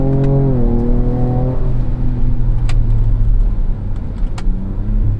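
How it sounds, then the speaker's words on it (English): 2024 Ford Ranger Raptor truck engine heard from inside the cab, rising in a rev as a downshift is attempted, then settling into a loud steady drone with road rumble. "Oh, it rejected my downshift."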